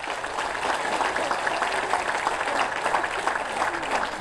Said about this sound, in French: Une bonne main d'applaudissement pour eux aussi